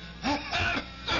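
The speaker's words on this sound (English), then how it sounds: "That cough sounds worse than ever to me" A couple of rough, throaty coughs in quick succession, close by, over a low background hum, in a radio drama.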